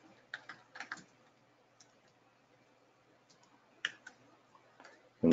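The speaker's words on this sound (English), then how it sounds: "And if I can type." Several bursts of typing on a computer keyboard, with scattered clusters of quiet clicks separated by pauses, close and faint, ending in one louder thump.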